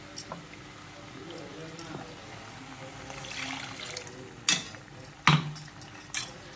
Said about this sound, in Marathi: आता हे मिक्सरचं भांडं एकदा धुवून घालते.